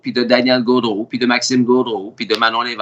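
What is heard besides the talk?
No everyday noise stands out behind the speech.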